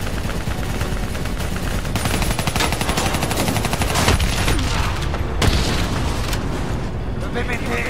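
Gunfire and explosions in the video game Call of Duty Black Ops 3, a dense continuous barrage of rapid automatic fire with booming blasts layered throughout, loud and unbroken from start to finish.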